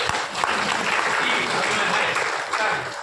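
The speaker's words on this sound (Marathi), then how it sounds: "दोघींच्यासाठी मनापासून एका टाळ्या वाजवा." Applause from the audience at a kirtan, continuous, dense and fairly close, holding steady for about three seconds with no talk over it.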